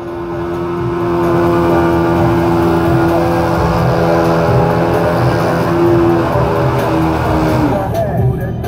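A car drifting at a tuning show: a loud, sustained engine rev with a strong droning pitch holds for most of the clip, then tails off near the end, with shouting spectators audible over it.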